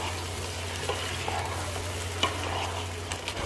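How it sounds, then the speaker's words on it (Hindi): Chicken and yogurt stirred and fried together in a pan for biryani, a constant close sizzle under a low steady hum, with a few faint clicks of the utensil. "अब चलिए दही को भी अच्छे से मिक्स करके भून लेंगे चिकन में।"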